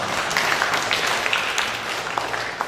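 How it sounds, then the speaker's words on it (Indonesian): Audience applause in a formal district council hall at a swearing-in ceremony, a continuous crackling spread of many hands clapping, even in level and heard from a middle distance. "Tepuk tangan untuk teman-teman."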